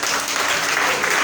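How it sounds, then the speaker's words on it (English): A seated audience at a Ministry of Education citizens engagement program in Ganta gives loud, dense applause, continuous clapping filling the whole short moment with no voices over it. "Please clap for him."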